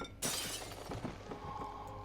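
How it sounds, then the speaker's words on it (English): A weak wooden frame is smashed in Amnesia: The Dark Descent, one sudden loud crash of splintering and shattering followed by scattered debris clatter and a lingering rattle. "Held together by only a weak wooden frame. Can I smash it?"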